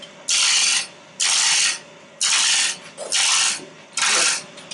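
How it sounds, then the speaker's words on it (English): Bowl gouge roughing a wooden sphere on a lathe, five loud bursts of cutting that each last about half a second to a second, separated by short quieter gaps in a steady rhythm, close up with no talk. "if all you bowl turners don't have a roughing gouge, you can do it with your bowl gouge"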